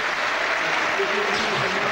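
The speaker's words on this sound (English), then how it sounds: "Paul to Giacomo will get a wonderful round of applause here as he makes way." Stadium crowd at a Kilmarnock versus Celtic Scottish football match applauding a substituted player: a steady, dense wash of clapping throughout, with a commentator talking over it.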